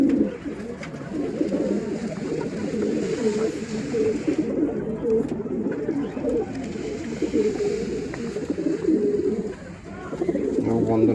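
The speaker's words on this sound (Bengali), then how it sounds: "এও বন্ধ ন্যাজের পায়রা আছে" Pigeons at a pigeon sale in Mallickpara coo in a steady overlapping chorus nearby, moderately loud and continuous, with faint voices underneath at times.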